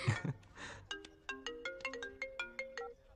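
Phone ringtone for an incoming call in a Hindi-dubbed Telugu film, a bright electronic melody of evenly spaced plucked notes that repeats steadily, clear and close, following a brief burst of background sound.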